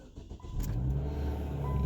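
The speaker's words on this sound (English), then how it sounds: "start her up and see how she runs" Old car engine cranking and catching, then settling into a steady low running rumble, close by and alone.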